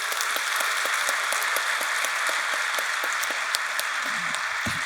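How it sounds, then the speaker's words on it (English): A conference audience applauds a panel at a public sector leadership event, a dense, steady wash of clapping holding at one level throughout without a pause. "Big round of applause, please, for our panel."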